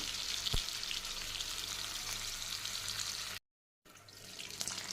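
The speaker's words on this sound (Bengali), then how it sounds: "এপিট ওপিট করে আমি মাছের পিসগুলো ভেজে নিচ্ছি" Bhetki fish pieces frying in mustard oil in a pan, a steady close crackling sizzle with a brief knock, then a short dropout before the hiss resumes.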